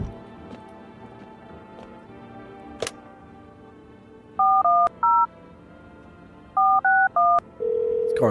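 Telephone keypad tones as a number is dialed to call a neighbor: two quick bursts of three beeps each, then a steady ringing tone, over a faint background hum with brief clicks.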